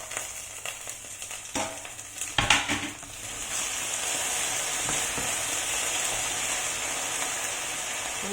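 Chicken frying in a covered pan after five minutes of cooking, a few clanks and scrapes early on giving way to a steady, close sizzle that holds to the end.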